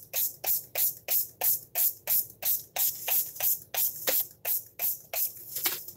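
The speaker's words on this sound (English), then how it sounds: "I'm just going to spray it and wet the whole canvas." A spray bottle mists water across an ink-painting canvas in quick, regular squirts, about a dozen evenly spaced hissing bursts, close and fairly loud with no talking.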